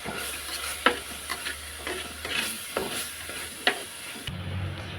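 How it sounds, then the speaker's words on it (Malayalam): Spice powders stirred into a frying pan, a steady sizzle with scraping spoon strokes and a few sharp clicks against the metal, close and unaccompanied by talk, before the frying sound drops away near the end. "നമുക്കിനി പൊടികൾ ഇട്ട് കൊടുക്കാം. നന്നായി ഇളക്കി കൊടുക്കണം."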